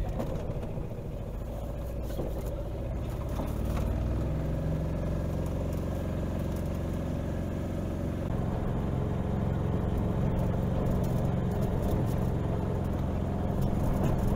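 The engine of a 2021 Aixam City Pack microcar hums steadily from inside the car while driving, a low even drone with light rattles and no talking.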